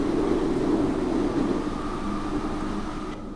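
Steady rumbling roar of a Brussels subway car in motion, heard from inside, with a constant low drone and rattle throughout.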